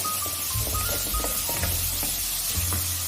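Garlic and chilli sizzle in a pan for a millet and fenugreek porridge, a constant close frying hiss with light stirring scrapes and soft knocks, no talking.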